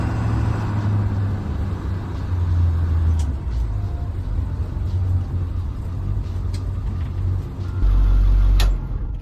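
A converted school bus, or skoolie, rumbles steadily as it drives, with a low engine drone and road noise throughout. A louder burst near the end may be an air brake.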